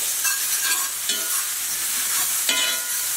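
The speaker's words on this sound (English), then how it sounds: "And you gotta add the garlic, add the shallots, mix it all together" Garlic and shallots sauté together in a hot pan, a bright steady hiss with a few light scraping strokes as they are mixed.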